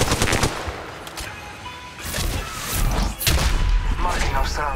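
Gunfire from Apex Legends crackles in rapid, loud bursts of automatic shots with heavy thuds, broken by short pauses, while a voice talks over the action.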